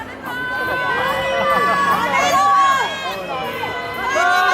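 A live audience at a Honey Punch song-and-dance performance cheers and screams continuously, with loud, high-pitched shouting voices layered over a steady crowd roar throughout.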